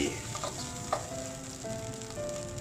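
Konjac and egg stir-fry sizzles in a pan for keto fried rice, a dense steady crackle close up with a few soft scrapes of the spatula and no talking.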